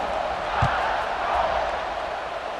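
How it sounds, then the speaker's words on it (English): Steady crowd murmur filling a college football stadium in the EA Sports College Football 26 video game, an even, moderately quiet buzz with one brief low thump. "this crowd is buzzing after that last score"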